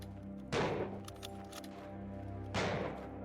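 Two sharp gunshots in the video game Maxim, spaced about two seconds apart, each a crisp crack with a short decaying tail over a steady humming background.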